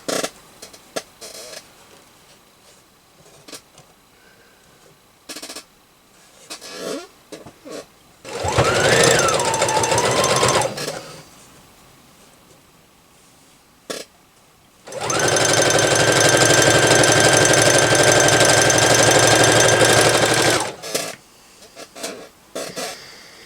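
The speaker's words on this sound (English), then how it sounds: "Just sew those big squares around." Two bursts of a sewing machine stitching large quilt squares, each running steadily for several seconds, loud and close, separated by quiet handling noises and brief taps.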